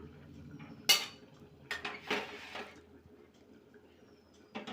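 Mango chutney is poured from a pot into a bowl with a few close clinks and scrapes of metal on crockery, scattered against a quiet room background.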